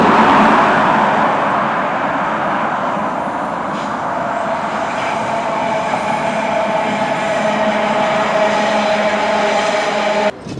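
A loud, continuous rumble and rattle of a train rolling past close by, steady throughout, with a brief clunk near the end.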